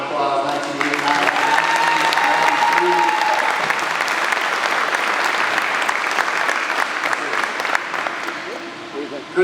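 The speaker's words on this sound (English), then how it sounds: "Give her a round of applause." Applause fills a hall at a university athletics hall of fame dinner, sustained and dense for several seconds and slowly tapering, with a voice at the start.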